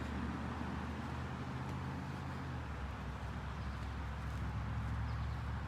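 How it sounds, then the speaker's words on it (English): Morning road traffic out beside the buildings at the end of Main Street, a steady low rumble and wash of passing vehicles, moderately distant and continuous throughout. "You can hear that morning traffic."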